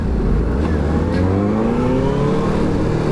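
Benelli TNT600i inline-four motorcycle engine on its stock exhaust, revving under acceleration with rising pitch harmonics, a loud continuous smooth howl with wind noise throughout.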